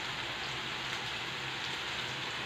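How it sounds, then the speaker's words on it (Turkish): Potatoes and peppers fry in hot oil in a pan, giving a steady, dense crackling sizzle that stays loud and close throughout, with no talking over it. "Güzel güzel kızarmaya başladı."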